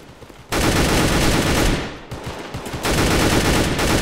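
Gunshots in a Roblox game: rapid bursts of automatic fire start abruptly after a short quiet lead-in, dip for a moment midway, then resume loud and sustained.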